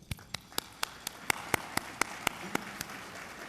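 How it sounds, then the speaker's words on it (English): Sparse, evenly spaced claps ring out at a fundraising event, about a dozen sharp hand strikes in a slow steady rhythm rather than a full crowd ovation, fairly faint and with no talking over them. "Let's give them all a round of applause."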